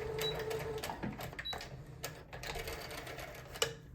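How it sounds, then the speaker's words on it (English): A sewing machine stitching the back seam of a pencil skirt with back tacking, in quiet bursts of rapid mechanical whirring with brief pauses between runs. "and then just sew it closed all the way down. And you want to back tack."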